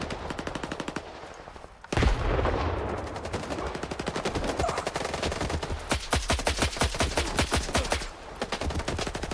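Automatic gunfire in the video game S.T.A.L.K.E.R. 2: a long burst of rapid, loud shots, a heavy blast, then more sustained rattling bursts with brief pauses between them.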